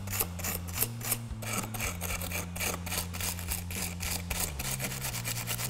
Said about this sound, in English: Take a wire brush.